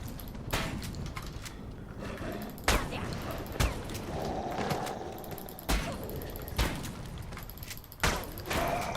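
Shotgun fire in Alone in the Dark: Illumination, a series of sharp, punchy blasts spaced a second or so apart over a busy, noisy game backdrop.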